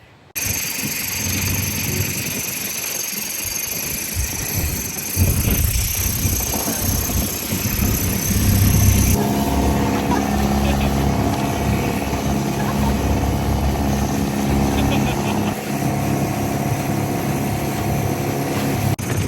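A boat engine drones steadily for a long stretch on the way to Capones Island, Zambales, a loud rough motor hum with wind and water noise over it.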